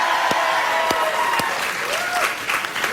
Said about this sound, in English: We're applauding them.